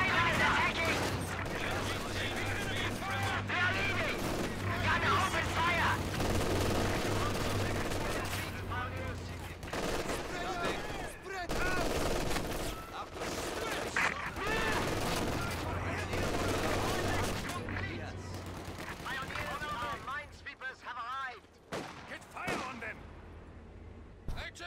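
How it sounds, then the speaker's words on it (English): Grenadiers fire on the player in a World War II-style video game with half-tracks and howitzers: dense, sustained volleys of rifle and machine-gun fire with booming blasts, loud and continuous, with voices shouting over the battle. "Grenadiers shooting at us!"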